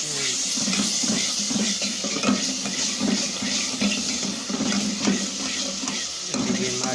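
Water is added to a pan of cauliflower and potato masala with red masala, turmeric and salt, giving a steady close sizzle and wet bubbling splash throughout.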